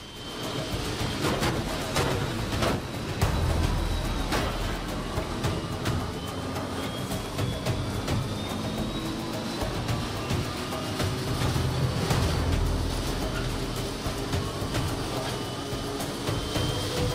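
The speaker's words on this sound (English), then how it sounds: "Train's heading into the tunnel." A train rolls along the tracks toward a tunnel in the video game Fast & Furious Crossroads, a loud continuous rumble with rhythmic clacking, heard alone throughout.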